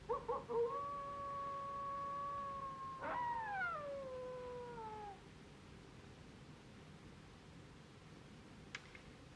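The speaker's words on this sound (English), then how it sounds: "We don't want the wolves getting at the ponies." Wolves howling near a frontier homestead on the prairie: long sustained wavering howls, one voice holding steady and then a second rising and sliding downward, fairly close, over a low wind-like background, fading out and leaving quiet.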